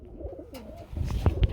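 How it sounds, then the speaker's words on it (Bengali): Lahori pigeons cooing softly in a low, rounded, repeated murmur, with a few sharper, louder sounds near the end. "আরেক জোড়া লাহোরি কবুতর চলে আসছে"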